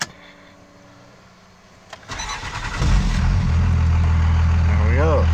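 A diesel engine with a VP44 injection pump cranks over after a quiet pause, catches and settles into a steady, loud idle close by, with faint background talk.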